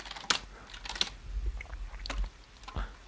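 Rapid, uneven clatter of keys on a computer keyboard, typed in short bursts with brief pauses, close and fairly quiet, with no talking.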